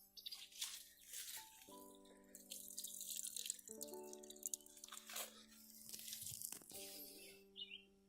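Groundwater seeps back into a freshly dug hole at Crater of Diamonds State Park, heard as faint trickling and scattered soft drips, with a low steady hum in the background.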